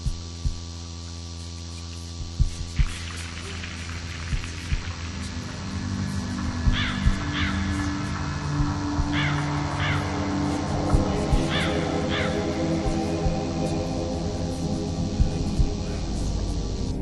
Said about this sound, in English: Strange sounds recorded from the painting Tree of Crows.